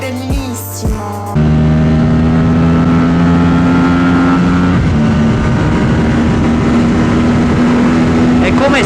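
A 2024 Aprilia RS 457 sports motorcycle runs at high speed on a race track, its engine holding a loud, steady high-pitched drone with slight pitch shifts and constant wind rush, after a brief muffled opening.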